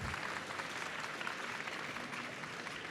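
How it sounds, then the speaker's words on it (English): Conference audience at a Sony presentation applauding three presenters, a faint, even patter of clapping held for a few seconds, somewhat distant. "let's go ahead and give Marco, Chris, and Sam a big round of applause"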